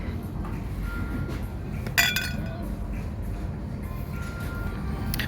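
A flower-shaped glass dish gives a single bright clink when handled, heard faintly against a steady background hum, with a few softer taps around it.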